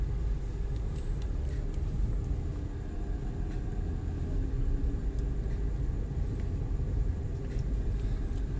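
Steady low rumble of idling cars and engines waiting at a red traffic light on a Malaysian road, continuous and fairly loud with faint higher hiss, no talk heard.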